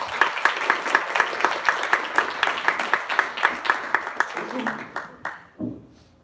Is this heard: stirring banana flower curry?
no